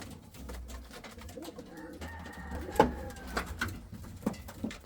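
Indian fantail pigeons coo at a loft, a low soft murmur running steadily through the background with a few sharper sounds around the middle, no voices present.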